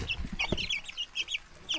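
Close, soft clucking from an old mother hen with chicks, a quick series of short chirpy calls.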